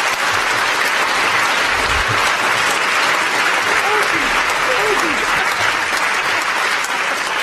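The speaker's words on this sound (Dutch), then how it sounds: "En geef ze een applaus." Audience applause fills a talk show setting, a dense, steady wash of clapping that runs loud and unbroken throughout, with faint voices beneath it.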